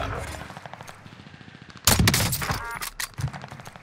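Rapid submachine gun bursts from an MP40 in Warzone on Rebirth Island, starting as lighter distant popping and then breaking into a loud, close, sustained volley of cracking shots around the two-second mark.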